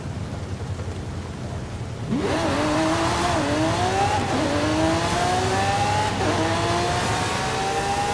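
Lamborghini Centenario racing in a video game: a single loud engine tone that climbs through the gears, with three rising pitch sweeps and shifts, over steady rumbling background noise and no voices.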